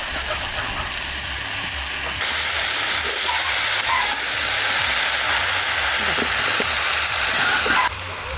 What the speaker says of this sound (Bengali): মূলো, আলু, ওলকপি ভাজে নিচ্ছি, এখানে সব সবজিগুলোই দিয়ে দেবো।